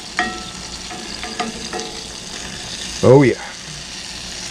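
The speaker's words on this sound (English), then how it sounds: "add 4 tablespoons of sweet cream butter and let it melt" New York strip steak frying in melted sweet cream butter, a steady near sizzle running under brief casual talk, with a few soft clicks and a louder scrape or stir near the end.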